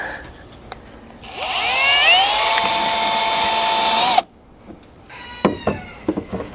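A power drill bores into polycarbonate panels: the motor whines up to a rising, sustained high pitch for a few seconds, then cuts off, followed by short quieter drill bursts and knocks.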